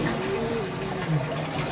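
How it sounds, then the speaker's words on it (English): Water rushing and filling a Japanese toilet's hand-wash tank after a flush, a steady close gush with a faint tonal hum, with a voice talking over it. "That once you flush, check it out."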